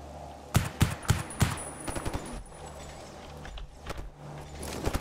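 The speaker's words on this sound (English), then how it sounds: "I'm getting shot by monolith as well" Gunfire from Monolith enemies in the video game STALKER Anomaly, several sharp loud shots in a quick burst followed by scattered shorter cracks and a few more shots near the end, with no talk.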